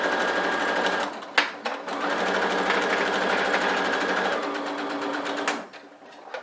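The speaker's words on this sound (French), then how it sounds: "Je suis en place sous la machine. Donc c'est parti pour ma couture." A domestic sewing machine runs a straight seam through fabric 1 cm from the edge, a steady close mechanical whir with a brief stop and restart, then slowing to a halt near the end.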